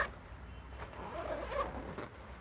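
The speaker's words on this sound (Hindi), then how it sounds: "यहाँ पे एक छोटी ज़िपर है।" A small zipper on a camera backpack slides open in a short, quiet rasping pull, heard up close with no talking.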